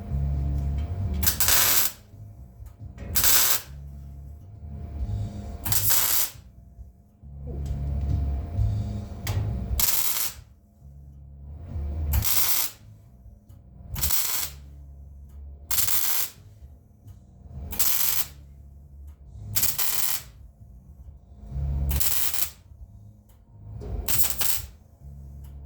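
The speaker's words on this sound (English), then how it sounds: "I'm just going to give that a little pressure as I weld." Welding on the front end of a 1951 Ford sedan custom produces about a dozen short, evenly spaced crackling bursts with a low hum between them. The sound is close, and nobody speaks.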